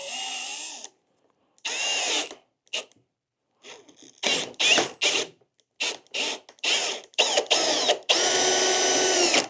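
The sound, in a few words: drilling half-inch dowel holes in a barn door with a brad point bit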